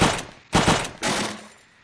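Machine gun fire in the Unturned World War II battle game: three quick, loud bursts of automatic fire separated by short pauses, the last trailing off into a fading echo.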